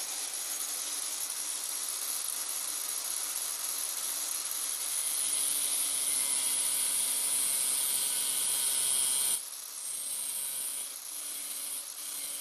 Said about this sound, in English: I'm going to use an angle grinder and a slitting disc